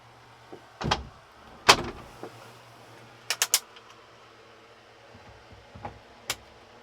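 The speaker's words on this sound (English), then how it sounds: "Shut the door." A door being shut indoors, with a few sharp knocks and thuds of the door and latch near the start, then a cluster of quick clicks and a final click against low room hum.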